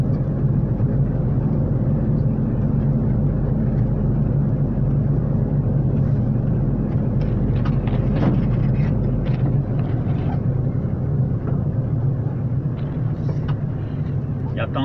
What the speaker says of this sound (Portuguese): Tem que passar com o caminhão com cuidado aqui, mas não quebrar os fios